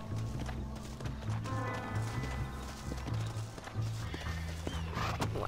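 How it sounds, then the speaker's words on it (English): Horse hooves clop in a quick, steady galloping rhythm over a low droning background, continuous and fairly close, in the video game Red Dead Redemption. "Jack, get on a horse!"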